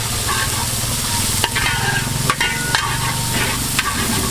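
Onion sizzles with mutton in coconut oil for a Kerala spicy curry, a steady close frying hiss broken by several sharp scraping stirs of a spoon against the pan.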